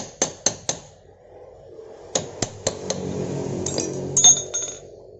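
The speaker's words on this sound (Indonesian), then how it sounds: "Kita pukul pakai pipa apa aja ya, yang penting pas sama diameter silnya." A pipe is tapped against a motorcycle engine oil seal on a Honda Grand to drive it in, sharp close metallic knocks in two short groups of three to four hits, then lighter clinks.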